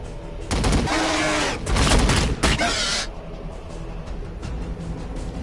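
Heavy volleys of gunfire in the Warhammer 40k Battlesector strategy game, loud bursts with booms over roughly three seconds, then fading into quieter battlefield rumble.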